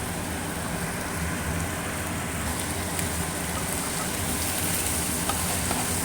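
Chicken curry with chicken masala stirred in a frying pan: a steady, close sizzle and frying hiss runs throughout, with faint scraping of the spoon mixed in and no talking.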